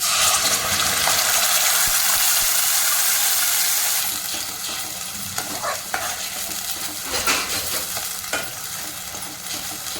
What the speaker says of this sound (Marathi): आता मी तेल टाकत आहे दोन पळ्या हे टोमॅटो पेस्ट आपल्याला चांगले तेलामध्ये फ्राय करून घ्यायचे आहे